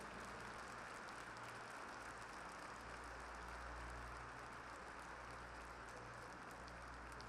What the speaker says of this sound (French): Et puisque vous êtes en train d'applaudir